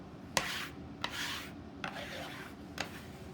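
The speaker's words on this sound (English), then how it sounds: "you can take your ruler or your bench scraper and pull up all your excess" A bench scraper scrapes excess flour off a counter in several short, separate strokes, each one a soft close scrape with a faint tap at its start, heard alone at low volume.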